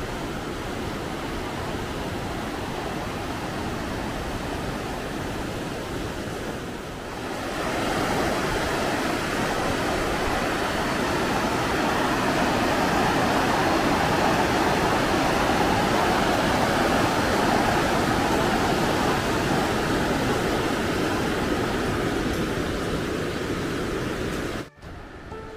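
The Parvati river at Kasol rushing beside a forest camp, a dense continuous roar of flowing water that swells slightly after the first few seconds and cuts briefly near the end.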